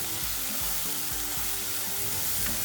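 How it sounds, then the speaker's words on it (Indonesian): Spices and torn bay leaves sizzle in hot oil for spicy chicken tongseng, a dense, even frying hiss close up with soft rhythmic stirring thumps underneath and no voices. "Kemudian aku aduk-aduk."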